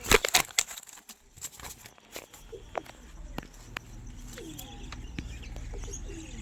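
Pigeons coo softly at a home loft, low rolling calls repeating under scattered chirps and rustling, with a few sharp clicks near the start and a steady faint background hum.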